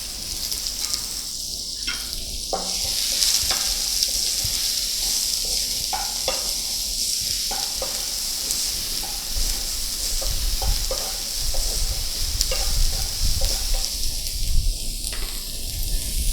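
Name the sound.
chopped onion frying in oil with mustard seeds, curry leaves, asafoetida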